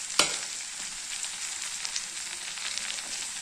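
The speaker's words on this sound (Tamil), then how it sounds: "இப்போ இது 2 போட்டு நல்லா வதக்கிக்கலாங்க." Onions frying with mint leaves and coriander in a pan, a steady soft sizzle with a sharp clink at the start and light scraping as they are stirred.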